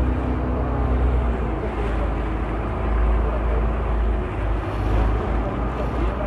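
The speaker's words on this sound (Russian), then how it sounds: "Ой, ветерочек есть, морской бриз." Sea breeze roars steadily across a microphone aboard a Venice water bus on the Grand Canal, a loud, continuous rumbling wind noise with faint water and engine sounds beneath.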